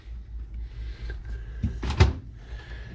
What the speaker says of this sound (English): We'll check out the freezer first. It's got 2 drawers, one for ice, one for frozen goods. Open this up.